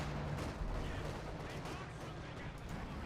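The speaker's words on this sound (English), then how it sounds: "a lot of AT guns now opening fire to push back that bulldozer" Anti-tank guns open fire in the Company of Heroes 2 strategy game, a dense, continuous barrage of booming shots and gunfire rumbling together with no pauses, mixed with other battle noise.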